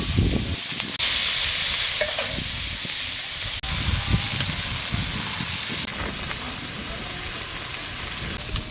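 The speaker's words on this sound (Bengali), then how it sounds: "চিংড়ি মাছ দিয়ে সব দেখুন দিয়ে তেলের মধ্যে এবার পেঁয়াজ দেবো।" Onions hit hot oil in a wok with a loud, bright sizzle, then settle into a steady hiss of frying with occasional stirring. A voice is faintly heard in the background.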